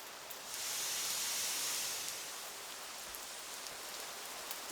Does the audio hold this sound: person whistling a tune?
no